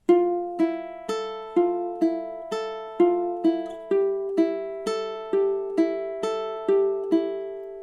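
A ukulele fingerpicking étude played with measures 9 and 10 joined, fourteen evenly spaced plucked notes ringing clearly over a steady low bass tone, close and alone with no talking.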